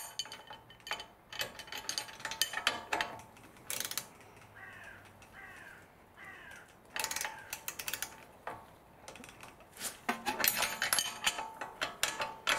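Ratchet tightening a suspension control arm bolt on an Audi A4 Avant while a T40 tool holds the center, quick clicking bursts alternating with metallic clanks and pauses, close and moderately quiet.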